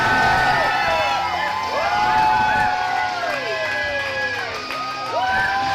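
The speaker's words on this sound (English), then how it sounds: "Listen to this crowd erupt for the Gotch brothers. Absolutely electric crowd." A packed crowd at a tag-team pro wrestling match roars and cheers continuously, loud and full, with whoops and shouts rising through the noise while a voice talks over it.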